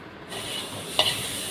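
Spices and tomatoes sauté in a pan for a light fish curry, a soft continuous sizzle with stirring and one sharper spatula scrape midway, close and alone.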